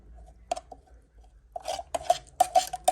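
Coffee being stirred in a pot before it goes on the stove, sparse metallic scrapes and clinks that grow busier and more rhythmic toward the end, close and alone.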